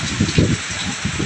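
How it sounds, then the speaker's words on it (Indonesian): Heavy rain with strong wind pours down in a village in Jepara, Central Java, as a dense, loud, continuous hiss of rain pattering on surfaces. "Cuaca hujan cukup deras ya"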